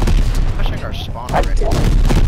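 Gunfire in the Call of Duty Modern Warfare game, with loud, dense bursts of shots and booms filling the mix, briefly dipping before resuming, as someone talks over the combat.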